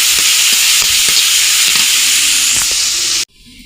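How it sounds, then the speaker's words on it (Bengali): Fish roe fries in hot oil in a pan while being stirred, a loud, close, hissing sizzle with soft scraping strokes, cutting off abruptly near the end to near quiet. "নাড়াচাড়া দিয়ে একটু লাল লাল করে হালকা করে ভেজে নেব।"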